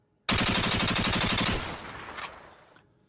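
A rapid burst of gunfire sound effect, about a dozen loud close shots fired in quick succession, followed by a fading echoing tail.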